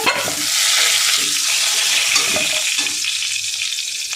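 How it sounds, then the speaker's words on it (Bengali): Potatoes frying in oil with salt and turmeric hiss in a steady close sizzle, with scraping stir strokes spaced through it and no voices. "একটু এই লবণ আর হলুদ দিয়ে আলুগুলো লাল লাল করে ভেজে নেব।"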